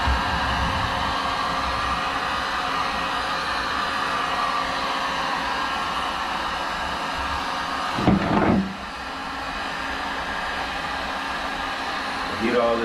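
A heat gun or hair dryer blows steadily on a Ram truck lens to soften the adhesive, a constant close whooshing roar with a brief knock near the end.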